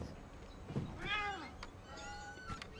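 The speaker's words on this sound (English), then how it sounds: "Did I just hear a cat?" A cat meows a few times in the video game What Remains of Edith Finch, drawn-out and wavering, fairly quiet over a soft background hiss.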